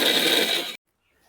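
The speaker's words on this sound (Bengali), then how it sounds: "এবার গ্রাইন্ড করে নেব।" A kitchen mixer grinder whirs loudly as it grinds raw green mango with a little water, a harsh dense buzz that cuts off abruptly into silence.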